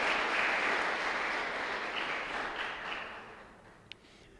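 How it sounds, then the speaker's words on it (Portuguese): A church congregation applauding during a worship service, a dense, steady wash of clapping that gradually thins and fades toward the end, with a sharp tap near the close. "Pode aplaudir."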